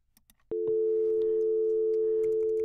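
A VoIP desk phone placing a call to another extension gives a steady, loud two-tone call-progress tone that starts abruptly after a quiet moment and holds unbroken, with faint clicks at the start.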